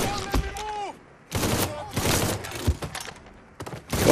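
Bursts of gunfire from a newly picked-up gun in the Mafia 3 video game, several rapid loud volleys separated by short gaps, with a voice speaking briefly at the start.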